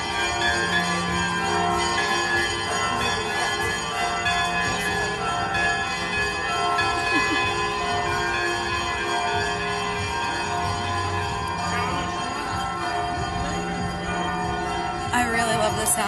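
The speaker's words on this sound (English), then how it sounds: "I really love the sound of the church bells." Russian church bells peal in a dense, continuous wash of overlapping ringing tones that carry from some distance and sustain throughout without a break.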